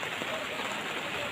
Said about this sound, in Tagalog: Kailang naulan pa